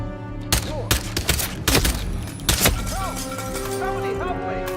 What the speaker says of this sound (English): I'm so glad that guy has silenced pistol rounds.